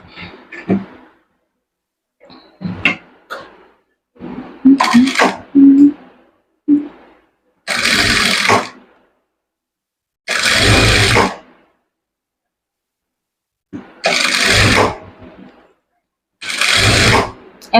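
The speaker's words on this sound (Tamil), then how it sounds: "இந்த இடத்துல நான் இன்னும் கொஞ்சம் உள்ளே தள்ளி தையல் போடணும்" A sewing machine stitches a blouse armhole seam in loud, close bursts of whirring motor, starting and stopping several times, with quieter handling sounds and possible soft talk between runs.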